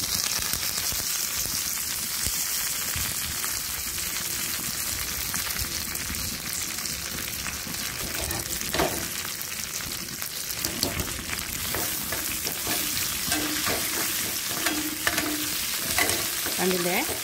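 Curry leaves frying in hot oil with dried red chillies for an Onam sadya curry, a steady close sizzle with stirring scrapes running throughout and louder crackling spatters in the second half.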